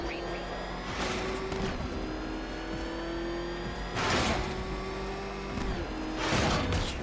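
Batmobile engine in Batman Arkham Knight revving, with three rising surges of roaring engine noise over a steady mechanical hum and tonal game sounds, fairly close and moderately loud.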